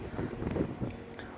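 Gusty wind buffets the microphone outdoors during a metal-detecting dig, a steady low rumble with soft swells and no clear voices.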